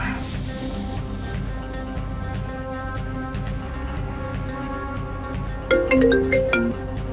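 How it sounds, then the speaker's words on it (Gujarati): A mobile phone rings with a repeating melodic ringtone at steady volume, growing slightly louder and busier near the end, with no voices over it. "નિશા, મારો ફોન કટ કેમ કરે છે?"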